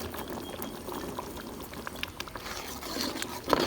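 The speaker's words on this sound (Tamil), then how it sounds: "கொதி வந்தோன்னா வேக வச்சு கொண்டக்கடலை" Chickpeas simmering in a pot of water for channa masala, a steady low bubbling and soft burbling that runs throughout, with a few small clinks near the end.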